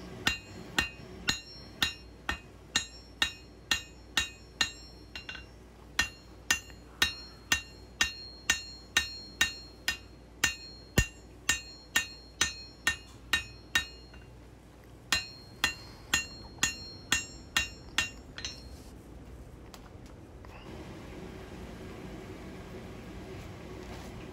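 A hammer forges the bevel of a small integral bolster knife, striking in a steady rhythm of sharp ringing blows with brief pauses. The blows die out near the end, leaving a low background hum.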